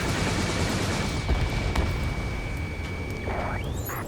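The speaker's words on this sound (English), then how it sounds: "Gunfire and the roar of jets echoing through the streets" Dense, continuous rumble of gunfire, jet roar and explosions in the video game Ace Combat 7 fills the whole stretch, loud and unbroken, with a faint steady tone running underneath.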